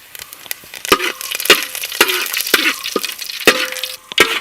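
Mustard seeds, shallots and curry leaves frying in hot oil for a Kerala-style mutton curry, with sharp repeated pops and crackles over a bright sizzle, loud and close.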